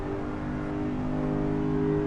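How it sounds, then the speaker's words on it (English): A steady, droning engine note from an Aston Martin safety car's crossplane V8 in the racing game Assetto Corsa, holding a sustained rev that rises slightly toward the end, with no voices. "That crossplane V8 is just a god's gift in comparison to that flat plane V8."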